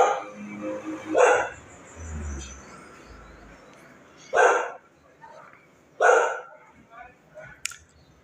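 A dog barks indoors in four loud, separate bursts spaced a second or more apart, fairly close, with quiet stretches and faint background sounds between them.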